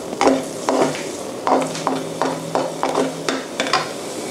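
Aromatics stir-fry in sesame oil in a pan while black tofu is being cooked, with loud, close, rhythmic scraping strokes of a utensil over a continuous sizzle and no talking.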